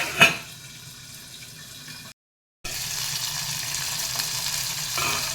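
Sliced onions fry in oil in a covered pan with a steady, close sizzling hiss, broken by a brief clatter at the start and a short silent cut midway.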